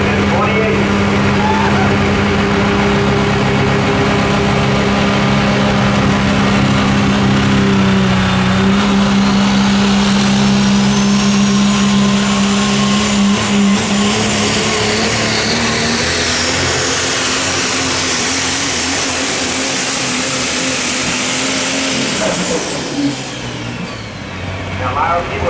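Super stock diesel 4WD truck pulling a sled at the 2021 America's Pull in Henry, Illinois: a loud, sustained diesel roar with rising turbo whine and shifting engine drone for most of the run, dropping off near the end, under an announcer's commentary.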